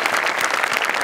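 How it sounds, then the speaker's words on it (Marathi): Sustained applause from a studio audience at a Marathi comedy show, a dense even patter of clapping hands filling the whole moment without any talk. "सगळ्यात आधी आमिर हडकर यांच्यासाठी जोरदार टाळ्या"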